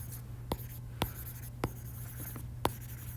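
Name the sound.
erasing pencil answer on a worksheet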